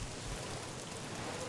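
Steady, hissing rain summoned by the Song of Storms in Syberia 2, a continuous soft downpour without pauses, faint and even throughout.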